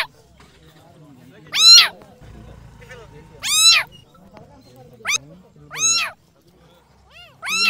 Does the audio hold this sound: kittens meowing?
yes